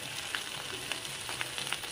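Potatoes fry with black pepper in a pan, a dense close sizzle with small crackling pops throughout, and no talking.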